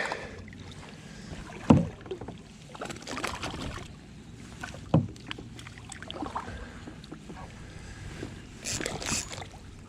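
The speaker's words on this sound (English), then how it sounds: "I think we're gonna have to paddle across and get out of the current here." A kayak is paddled across a river current in West Michigan while fishing, with soft water swishes and a few sharper paddle strokes over steady wind and flowing-water noise.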